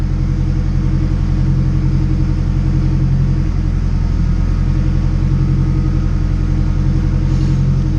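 Turbocharged Acura RSX engine running on a dyno, a loud, steady, close rumbling drone with a throbbing pulse that holds level throughout and no voices.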